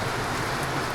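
Steady rain falls outdoors during a motorbike wash, a dense even hiss of drops with no voices.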